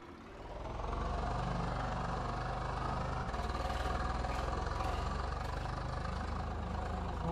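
Swaraj 855 tractor engines straining to pull a trolley in Farming Simulator 22, a loud, steady, low diesel drone with knocking texture that rises after a quiet start and holds throughout.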